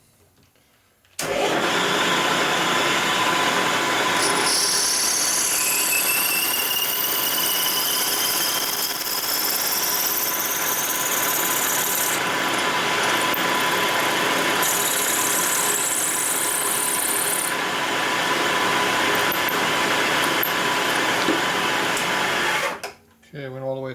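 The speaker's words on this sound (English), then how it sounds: "I'm going to use a drill." A power drill bores a hole through the engine case of a 1997 Harley-Davidson Evolution 80 ci motor, a loud steady whining motor drone running almost the whole stretch, starting abruptly and cutting off near the end.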